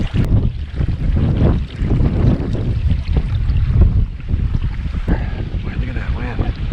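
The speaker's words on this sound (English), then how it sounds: "Boy, look at that wind." Strong outdoor wind buffets and roars in continuous gusts during gale-force conditions on a Wisconsin Driftless fishing trip, loud and close against the microphone.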